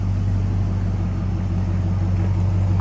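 A lowered 2011 Chevy Colorado crew cab with a 5.3 V8 and aftermarket exhaust holds a steady, deep idle burble, close and continuous.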